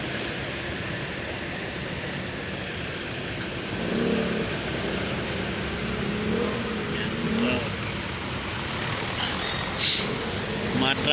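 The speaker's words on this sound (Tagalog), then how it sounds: "Masyadong matraffic." Heavy street traffic in Poblacion, a constant roar of car and truck engines close by with occasional louder passing vehicles and revving, steady throughout with no break in the noise.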